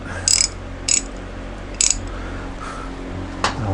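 Ratchet wrench tightening bolts on the top end of a 1999 Harley Davidson Road King, four short bursts of rapid clicking separated by pauses, close and crisp over a low background hum.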